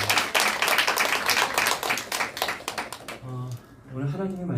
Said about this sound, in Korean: 한 번 더 박수로